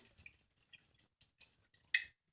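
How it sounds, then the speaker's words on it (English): Half a cup of water swished and sloshed inside an emptied tomato can, then poured out; quiet irregular splashes and drips in short bursts, close and faint. "take your half cup of water and pour it in the can and swish it around to get more of the tomato juice off"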